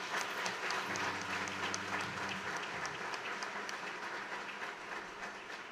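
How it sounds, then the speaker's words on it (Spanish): Catholic congregation applauding during a priest's installation ceremony, a dense, sustained roar of clapping in a reverberant church, steady and even for several seconds with brief talk underneath at first. "Vamos a darle un aplauso al Señor,"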